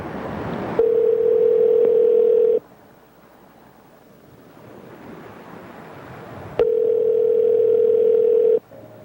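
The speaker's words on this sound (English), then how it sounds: "Let's call Andrew's phone" A telephone dial tone sounds while a call is placed to a phone, two long steady tones each lasting about two seconds, separated by a quiet stretch of line hiss.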